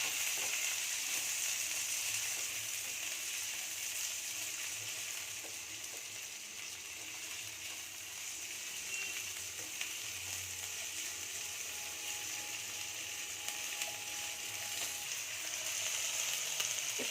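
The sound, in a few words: chopped onions frying with salt in pan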